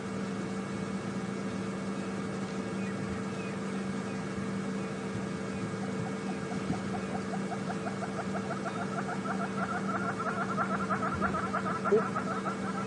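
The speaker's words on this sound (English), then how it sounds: "You can hear some yellow-billed hornbills calling off in the background." Yellow-billed hornbills call from a distance across a game reserve, a long series of rapid repeated clucking notes that quicken and swell toward the end, heard faintly over a steady engine-like hum with no talking.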